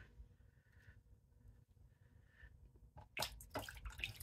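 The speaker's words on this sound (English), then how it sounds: "I'm splashing water as I'm swooshing this through the water." A metal craft die is swished through a tub of water, first with soft faint trickles, then a burst of close splashing and sloshing toward the end.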